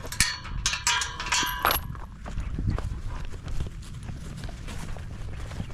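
Hooves clip-clop on hard ground as a part-racehorse, part-cattle-herding horse walks, a few sharp clanks early on, then a steady plodding rhythm with no talking.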